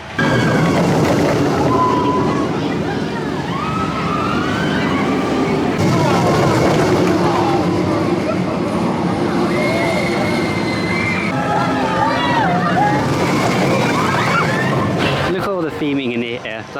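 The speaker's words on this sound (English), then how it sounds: "See the train going up the lift hill." The Gold Rush family roller coaster train at Drayton Manor climbs its lift hill on opening day, a steady rumbling clatter with squealing wheels and chain noise, heard under crowd chatter and voices.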